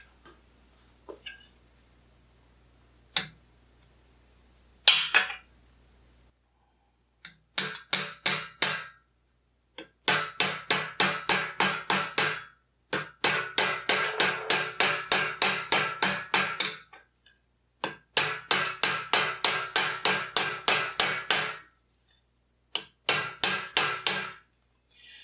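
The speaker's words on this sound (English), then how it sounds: "Now I'm going to use a round-faced hammer to help get in here." A round-faced hammer strikes the rolled edge of a steel armour vambrace in rapid, even bursts of ringing taps. A few isolated blows come first, then repeated runs of quick metallic strikes separated by short pauses, close and loud with no talk.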